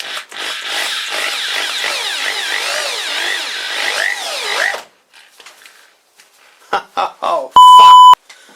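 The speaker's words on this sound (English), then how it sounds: "Let's drill a hole." A power drill runs on a cross drilling attachment fitted to a vintage lathe, giving a loud motor whine whose pitch wavers up and down for about five seconds before cutting out. Quiet clicks and a short electronic beep follow.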